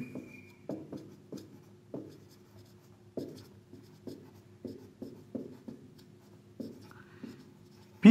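Pen or chalk on a surface during a geometry lesson makes short, dry scratching strokes that recur in an irregular rhythm, close and quiet, with no talking.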